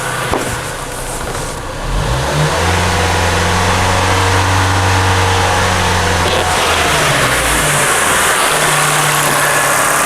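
A car engine idles, then revs up and holds a raised, steady drone for several seconds during a battery tester load test before settling back down; no one talks.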